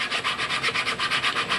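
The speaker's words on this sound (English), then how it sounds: "It's a lot easier to do this sanding now than after the body and wing are joined" Sandpaper is rubbed back and forth on the body of a model airplane before the body and wing are joined. The sanding is close and loud, with about a dozen quick, even strokes in a steady rhythm and no talking.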